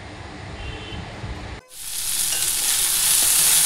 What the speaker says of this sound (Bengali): ওই দেখো আলু বিনস ধুয়ে নিয়েছে ভালো করে মা, এই যে কড়াতে ছেড়ে দিল